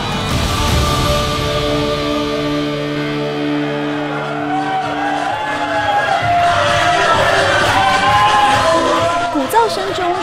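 A professional wrestling crowd roars and cheers as a wrestler makes an entrance, loud sustained uproar blended with booming music and scattered shouts.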